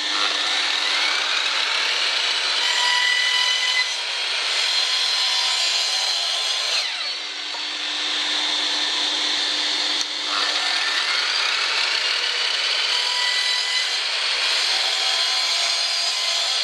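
A power saw running continuously through plywood and wooden battens for a jig in a workshop, a loud steady high-pitched whine with slight dips in pitch as the blade loads, close and alone.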